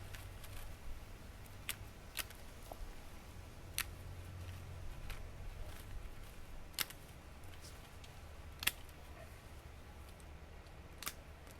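Garden shears cutting back the roots of a Japanese maple outdoors, a series of faint, scattered sharp snips and clicks over quiet background.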